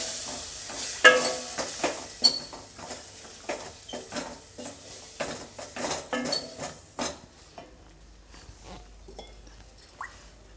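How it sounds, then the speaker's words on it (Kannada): A spoon stirs ground coconut masala into vegetable saagu in a pot, with a run of distinct scraping and clanking strokes over faint sizzling that thins out toward the end. "ಇದನ್ನು ಚೆನ್ನಾಗಿ ಮಿಕ್ಸ್ ಮಾಡ್ಕೊಳ್ಳಿ"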